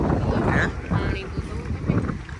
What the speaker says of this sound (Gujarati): અહીંયા પવન એ બહુ છે તાપી નદીના કિનારે